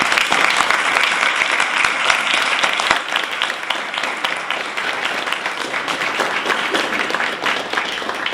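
Sustained audience applause fills a school board meeting room, dense steady clapping from many hands continuing loudly throughout with no break.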